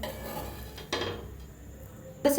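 Crispy fried eggplant being lifted from the pan onto a plate: soft clinks and scrapes of a utensil against cookware and dishware over a low background, with a louder clatter at the end.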